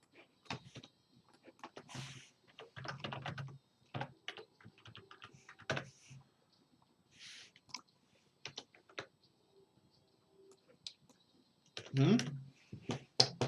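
Quiet, intermittent clicking of a computer keyboard while card names are typed into a search for a Commander card-game deck, short bursts of keystrokes broken by pauses, with some soft talking in between.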